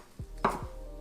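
A knife cuts leafy greens into ribbons on a board, a few separate soft chopping strokes close by with a short firmer slice in the middle, and no talking.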